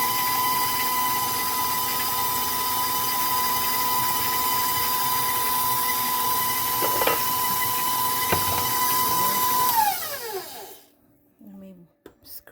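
An electric mixer runs steadily while beating cookie dough for juniper star cookies, a constant whirring hum that winds down and stops near the end.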